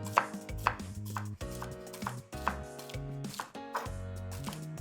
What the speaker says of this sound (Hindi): We are not going to use this and we're going to chop up the rest.